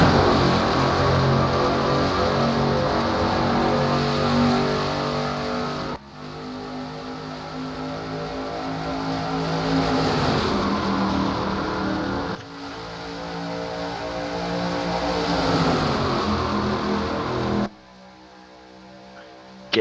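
Stock race cars at speed on the back straightaway at Talladega, a continuous loud engine roar that swells and fades in several waves as cars pass, with abrupt cuts and no talk.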